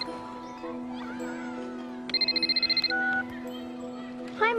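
A mobile phone rings with a rapid electronic trill of pulsing high tones lasting about a second, set over a sustained background tone from a film scene.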